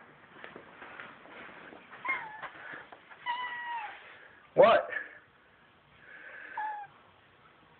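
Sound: cat meowing to be let out

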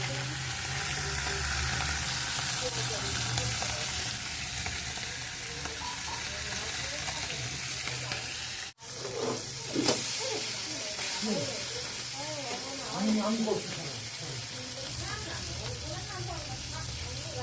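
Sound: fish frying in a pan

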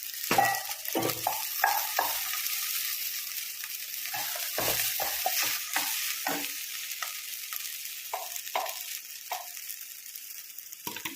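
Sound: stirring rice with a spoon in a pan

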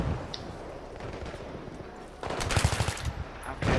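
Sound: gunfire in the video game Battlefield 3

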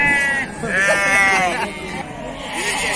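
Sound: sheep bleating at Beylagan livestock market

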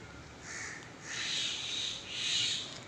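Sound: bird calling from a tree

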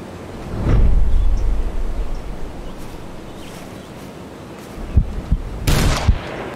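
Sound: gunshots in Hunting Simulator 2 video game

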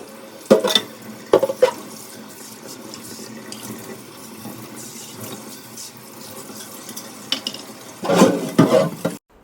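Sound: scrubbing chimney parts with soap and hot water

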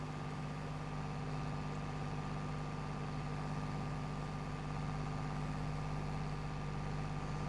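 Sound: Swaraj 855 tractor engine in video game Farming Simulator 22

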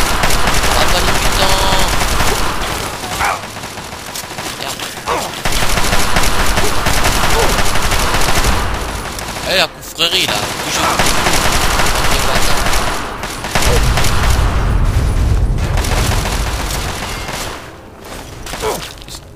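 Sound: Chinese assault rifle firing in the video game Fallout 3

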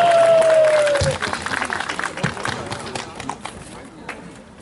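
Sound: audience applause at outdoor concert

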